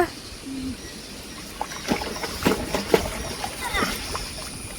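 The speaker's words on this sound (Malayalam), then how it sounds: "ഇവനെ ശരിക്ക് വെള്ളത്തിൽ മുക്കി പൊക്കിയാലേ ഇവൻ്റെ അഴുക്കൊക്കെ പോകും" A dog being dunked and lifted in shallow stream water gives several close splashes and sloshes in irregular bursts, with faint outdoor background noise.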